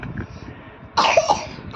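A child gives a short, harsh cough burst about halfway through, close and fairly loud, after a quiet, murmuring stretch.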